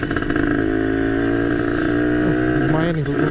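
A Kawasaki Ninja 150 two-stroke motorcycle engine drones while riding, a steady buzzing tone that rises in pitch near the end as the throttle opens, with wind rush around it.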